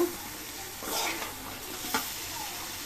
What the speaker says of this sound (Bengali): তাজা মাছ তো, তাই একসাথে কষিয়ে নেব